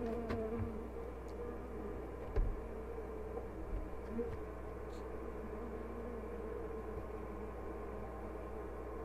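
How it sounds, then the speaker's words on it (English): Bees buzz steadily at an open beehive during a hive check on a mountain site, a constant droning hum with a few brief knocks and handling sounds close by. "Glad the bees came up."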